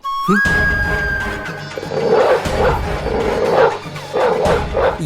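Dogs bark, yip and whimper close by in a historical drama scene, giving a run of loud repeated barks and whines after a brief tonal sound at the start.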